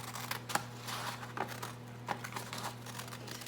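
Scissors cutting paper strips for a fish-shaped weaving loom, with a few sharp close snips and rustling paper over a steady low hum.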